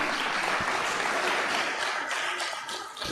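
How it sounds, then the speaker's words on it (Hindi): Audience applause at a Hindi poetry gathering (kavi sammelan) marking a birth centenary, a short burst of steady clapping from a hall crowd, fairly loud throughout and easing slightly toward the end. "तालियां आपकी कम बज रही है उनके साथ।"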